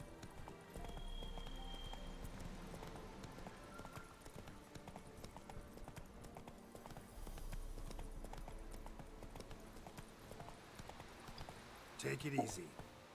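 Horse hooves clip-clop steadily in The Witcher 3 as the horse travels, running under near-continuous talk for most of the stretch.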